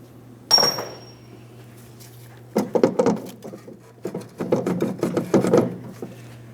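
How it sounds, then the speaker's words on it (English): A small pry bar works the rear strut assembly loose from the suspension of a 2004-2008 Pontiac Grand Prix, giving a sharp metallic clank followed by bursts of scraping, knocking and rattling metal over a steady low hum, fairly close. "Just use a small pry bar to help us separate this."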